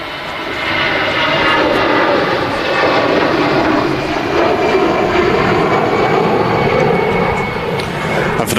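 A Boeing 757 departs Manchester Airport on a windy day, its engines producing a loud, steady roar that holds across the whole stretch with no pauses.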